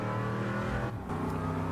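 A race car of about 400 horsepower lapping a long circuit, its engine a loud, continuous rich drone with a brief dip in the middle, heard close and without talk.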